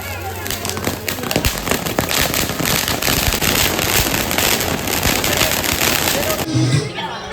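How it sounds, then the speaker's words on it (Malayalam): A long string of firecrackers bursts in rapid, dense crackling for about six seconds, loud and close, before stopping abruptly; faint crowd noise sits beneath the blasts. "അപ്പം ഈ 2 കൈ നിറയെ മാലപ്പടക്കൊക്കെ ഇട്ട് പോന്നു നോക്കി."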